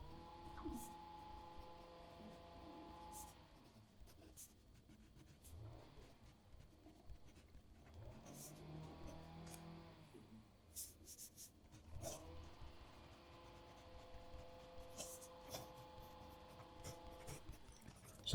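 A Pilot E95S fountain pen with a medium 14 karat gold nib and Diamine Grotto ink writes on paper, with faint scratchy strokes and brief pauses while a quiet voice speaks at times.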